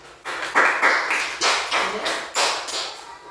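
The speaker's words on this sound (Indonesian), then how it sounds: "tepuk tangan untuk kelompok 3" A small group claps for a classroom team during a school coaching session, with a short run of sharp, separate claps of uneven rhythm, close and fairly loud, and almost no talk.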